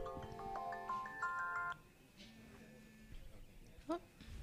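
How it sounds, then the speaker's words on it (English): A phone ringtone plays a short melodic electronic tune, fairly clear for under two seconds, then stops; quiet room noise and a brief voice-like sound follow. "My phone is ringing."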